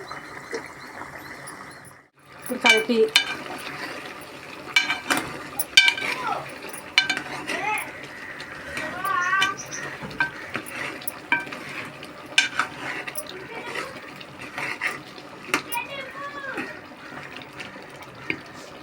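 A spoon stirs a paste of poppy seeds and cashews into a simmering chicken curry in a pot. Metal scrapes and clinks repeat over a soft sizzle, with occasional speech.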